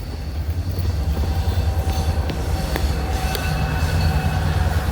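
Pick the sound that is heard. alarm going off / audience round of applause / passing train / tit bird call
passing train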